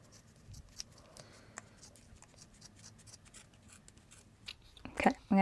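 Sharp scissors snip through strands of super bulky yarn while knitting a beanie, a series of quiet, close clicks and crisp cuts spaced irregularly, ending in a louder burst of snipping.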